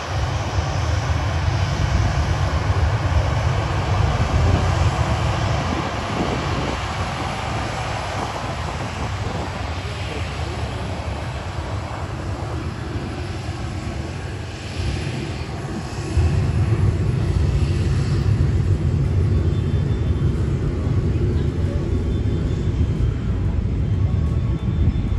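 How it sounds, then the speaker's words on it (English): A TUI Boeing 737-800 airliner taxiing toward the runway at Manchester Airport, a loud, continuous jet engine whine and low rumble that swells midway, heard from nearby with no talking. "Another TUI Boeing 737-800 taxis past us to head to the runway."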